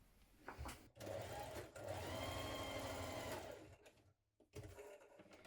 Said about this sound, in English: we're going to stitch that shoulder seam in place